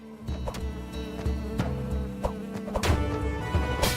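Bees buzzing in a video game, a steady droning hum with sharp clicks and hits scattered through it, louder near the end.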